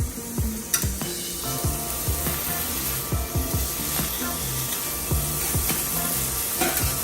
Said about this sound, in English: But now I'm going to grill it